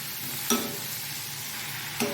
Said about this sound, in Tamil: இப்போ வந்து இது எல்லாத்தையும் நல்லா வதக்கி விடுங்க ஒரு ரெண்டு மூணு நிமிஷம் வதங்கினா போதும்